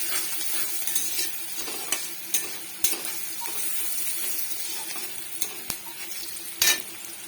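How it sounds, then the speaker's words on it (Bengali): Onions with a little salt and turmeric frying in a pan, with a constant close sizzle and occasional scraping and clinking of a stirring utensil against the pan. "দেখো পেঁয়াজটা এভাবে আমি লাল লাল করে ভেজে নিয়েছি।"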